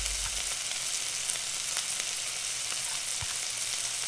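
Minced chicken and vegetables for spring roll filling sauté over a medium flame, producing a steady, even sizzle close by with faint scraping and no voices.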